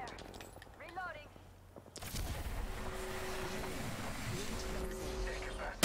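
Gunfire from the Apex Legends battle royale game, a sustained burst of rapid shots and impacts that starts abruptly partway through and continues loud and dense to the end, with a voice heard briefly before it.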